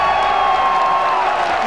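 A packed arena crowd at a League of Legends esports event, the 2015 Mid-Season Invitational, cheers and roars in a steady, dense wash of sound with no break.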